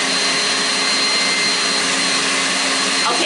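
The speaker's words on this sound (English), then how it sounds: "now my mixer has been running for about another 2 minutes" An electric mixer whips cream into butter with a loud, steady whir, its pitch unchanging and heard up close, with no voices.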